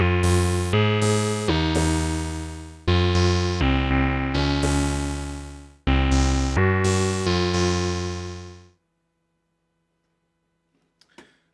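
Bright, buzzy notes from a Minimoog Model D reissue analog synthesizer play in a short phrase, each held tone swelling then fading with a lingering, reverb-like tail before silence.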